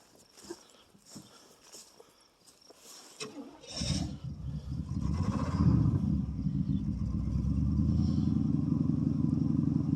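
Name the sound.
1979 Oldsmobile Ninety-Eight engine cold start and idling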